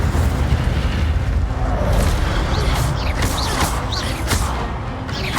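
Incendio fire spell from Hogwarts Legacy, a sustained roaring burst of flame with rumbling low end and repeated whooshing flares layered over it, loud and continuous.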